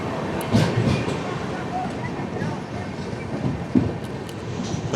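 Gandhidham-Tirunelveli Humsafar Express rolling steadily off a loop line near Chandlodiya station, with a continuous low rumble and rattle of the carriages. Faint clacks are heard as it crosses track joints, and a voice speaks over it.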